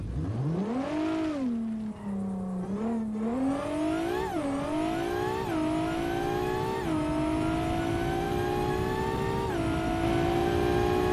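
Supercharged 1000-horsepower car with nitrous accelerating hard, the engine note climbing through a series of gear shifts, each with a brief dip before rising again, loud and close throughout.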